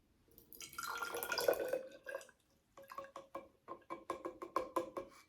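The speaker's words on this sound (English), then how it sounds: "I'm gonna pour this back into the graduated cylinder for observation." Liquid pours into a graduated cylinder in a steady, gurgling stream that fades out, then comes back as a series of rhythmic splashy drips and glugs, close and fairly quiet.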